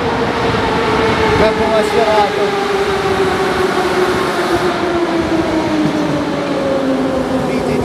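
A Moscow metro train arrives at a station during a train parade, its steady loud rumble and whining motor tone falling gradually as it slows, with people talking over it.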